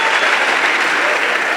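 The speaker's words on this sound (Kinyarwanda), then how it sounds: "Give yourselves a big hand clap one more time." Audience of trainees at a kick-off training session giving themselves a big round of hand claps; a dense, even burst of loud clapping sustained throughout without a break.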